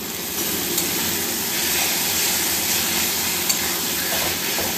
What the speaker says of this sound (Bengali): মশলাটা আমার মোটামুটি ভাজা হয়ে গেছে, এবার আমি টমেটোগুলো দিয়ে দেবো